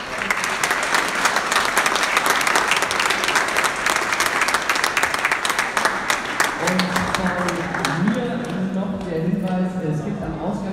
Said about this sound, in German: dann nochmal einen großen Applaus